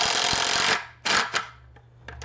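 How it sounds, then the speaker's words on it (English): A power drill whirs in a steady loud burst while building a wooden deck railing with balusters, then stops, followed by two short squeezes of the trigger and a low motor hum. "This is how you drill."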